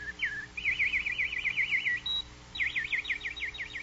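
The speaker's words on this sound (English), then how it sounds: "And so the nightingale sang on and on." A nightingale sings in repeated rapid trilled phrases, close and clear, with a short pause midway before a second run of fast warbling notes, no voices over it.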